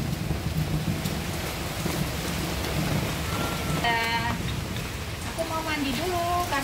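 Steady rain patters and hisses on surfaces throughout, with voices and brief vocal sounds breaking in near the end.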